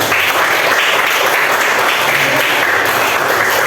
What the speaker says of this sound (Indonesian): Kita tepuk tangan bersama-sama untuk kita semua.